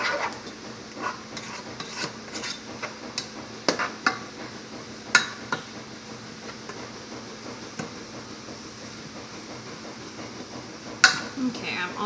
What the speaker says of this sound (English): That's the ginger and the garlic cooking in there.